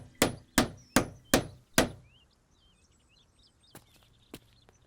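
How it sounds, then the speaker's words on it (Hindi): Someone hammers up a to-let board, striking five sharp, loud blows in quick succession, then two fainter knocks follow after a pause, with light bird chirps in the quiet background. "इतना शोर क्यों मचा रहा था? यह हथौड़ा किस लिए?"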